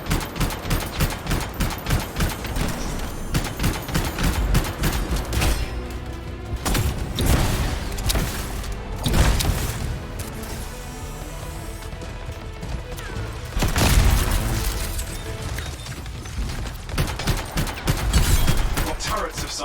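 Turret gunfire in the video game Anthem: rapid, loud automatic fire in dense bursts with heavy impacts and game effects, continuing almost without a break and mixed with battle noise.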